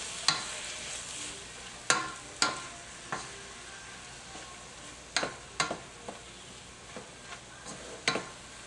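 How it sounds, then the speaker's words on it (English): Shrimp stir-fried with spinach, garlic and onions in a pan: a steady sizzle with repeated sharp scraping clacks of a utensil against the pan at irregular intervals, close and alone without talk. "We'll start to combine all those flavors together and stir fry them together."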